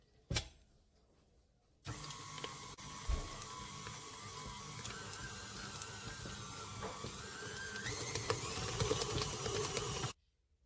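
A stand mixer kneads enriched brioche dough with butter worked in, a steady close mechanical whir with clicking and rattling that swells slightly toward the end, then stops abruptly.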